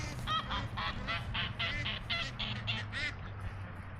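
Ducks in an autumn garden quack in a rapid run of about ten loud, nasal honking calls close by, tapering off near the end over a steady background murmur.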